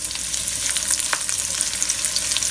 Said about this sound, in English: that's going to sizzle away